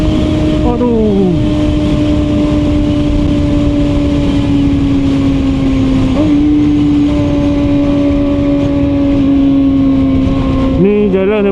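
A QJMotor SRK450RR motorcycle's exhaust drones loud and steady while riding on a highway, its engine note holding nearly constant with small pitch shifts and a gear change near the end.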